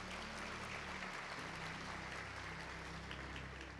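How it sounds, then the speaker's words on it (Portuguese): A church congregation at a Portuguese-language celebration service applauds in a full, continuous wash of clapping, with a low hum of music or amplification running beneath it. "Você pode aplaudir ao Senhor pela vida desses homens?"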